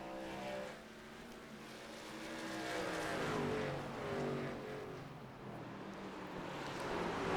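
A race car spinning and sliding through a turn at Sonoma during a stock car round, heard as a continuous engine drone with shifting pitch sweeps as the revs rise and fall, fairly distant and steady throughout.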